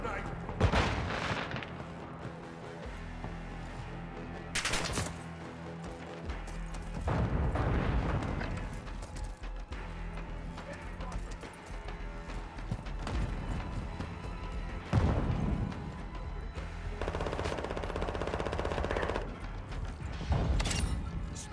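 Gunfire and a friendly airstrike in Modern Warfare II: bursts of shots and heavy booming impacts come in waves over about twenty seconds, loud and mixed with game voices and battlefield noise.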